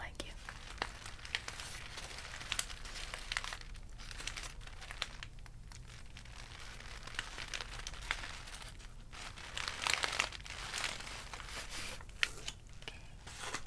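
Packaging crinkles and rustles close up during a soft-spoken ASMR unboxing, in irregular bursts of crisp crackling, with quiet low voice sounds in the background.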